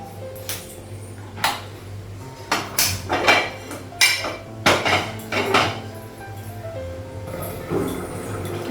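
Metal kitchenware clanks on a home stove as a tawa griddle is set down for making gola roti, several sharp clattering knocks and scrapes in irregular bursts, close by, with no talking.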